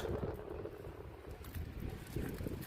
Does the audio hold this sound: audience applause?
no